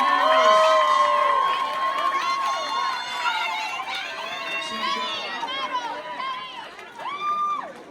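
A crowd at a 2024 Math League summer tournament awards ceremony cheers and shouts for sixth-grade silver medalists, with children's high voices carrying loudly and steadily throughout, some scattered clapping underneath.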